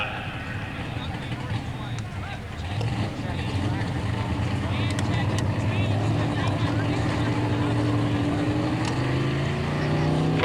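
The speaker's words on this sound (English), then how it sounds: "Glidden making the 1-2 gear change on the burnout" A 1986 Ford Thunderbird pro stock drag car at an NHRA Spring Nationals drag strip revs hard through its 1-2 gear change during a burnout, a steady loud engine roar with rising pitch, under a commentator's voice.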